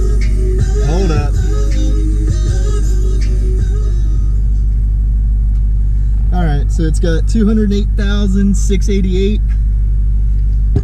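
6.0 Powerstroke diesel truck with a straight pipe exhaust idling, a loud steady low rumble throughout with whining tones rising and falling over it, while someone talks nearby.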